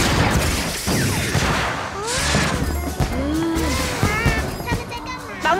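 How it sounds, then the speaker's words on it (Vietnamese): Cartoon cannon blasts and fireworks crackle in a rapid volley of bangs and whistling bursts, with rising sweeping tones threaded through, and voices speak over the busy action. "Nổ pháo, nổ pháo."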